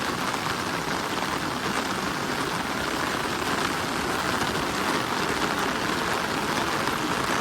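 Heavy monsoon rain pours steadily along the Mumbai–Goa highway, drumming on an umbrella overhead as a dense, unbroken hiss that stays loud and even from start to finish.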